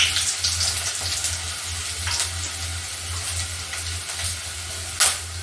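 Dried red chillies sizzle and crackle in hot oil for a Tamil toor dal sambar, a steady close frying hiss with a low hum underneath and a brief louder pop near the end.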